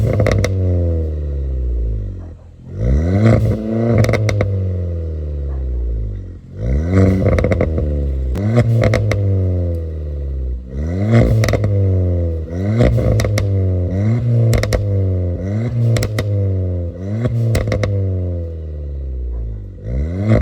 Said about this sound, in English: Let's check out the exhaust note of this car and then drive this around.